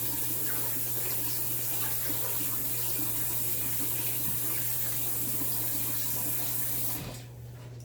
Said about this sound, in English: So I'm going to put a little bit of water in here so I can blanch the rest of that kale